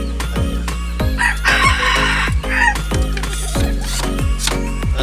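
Golden bantam chickens clucking close by, with a loud rooster crow rising in the middle, repeated throaty calls packed densely over a few seconds and no talk.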